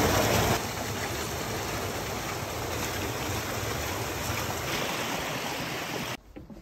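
Water rushes steadily along a bisse, an irrigation channel at Bruson, a continuous close, moderately loud flow that runs unbroken for about six seconds before cutting off abruptly.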